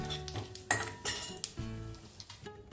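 A metal lid clanks and rings against a pan while cloves fry in oil, several resonant metallic knocks and clinks in quick succession, close up and with no talking.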